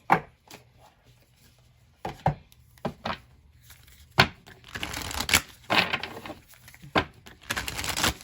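Moonology manifestation oracle cards are shuffled by hand in brief, irregular bursts of soft papery riffling and tapping, with quiet gaps between and busier shuffling toward the end; no one speaks.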